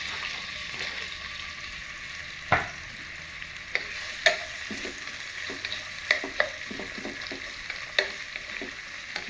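Onions fry with a sharp hiss in hot oil with fenugreek seeds for a chicken curry. A constant sizzle is broken by a few louder spoon scrapes and knocks against the pan as it is stirred, with no talking.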